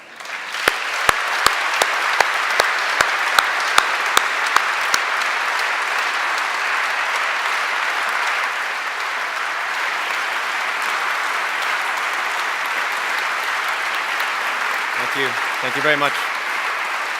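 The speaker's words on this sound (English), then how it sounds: "Let us give him a warm and friendly welcome applause, one that can be heard even in Brussels" Warm welcoming applause from a conference audience, sustained and loud throughout, with a few sharp claps at the start and a voice briefly speaking near the end.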